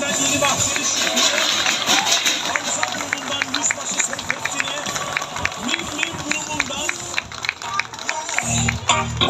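A crowd at a Turkish night entertainment show in Didim claps in steady rhythmic bursts for the kitchen staff, mixed with hubbub and voices talking over it.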